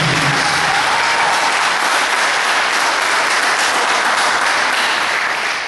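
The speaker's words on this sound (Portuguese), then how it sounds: "Aplauda verdadeiramente o Senhor." Church congregation applauding, a loud, dense, continuous roar of clapping from a large crowd filling the space evenly from start to finish.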